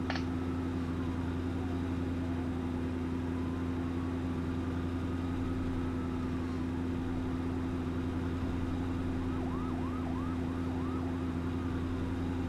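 An ambulance siren wails in the emergency-response video game FS:911, steady and fairly faint over a constant low engine drone, with sweeping and yelping tones and no talking.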